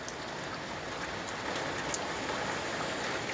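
Steady rain pours down outdoors, a dense, even hiss of drops hitting the ground and surfaces that holds at a constant level throughout, with no voices.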